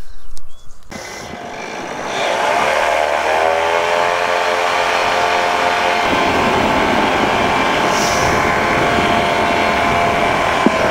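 Rotax-type engine of a PeaBee light aircraft spinning up from a brief quiet start into a steady, loud, continuous drone with harmonic whine, holding level for the rest of the stretch.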